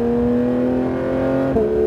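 A Porsche GT3 engine pulls hard on a race track, a loud, steady high-revving tone that climbs until a sudden shift near the end drops the pitch and the note carries on.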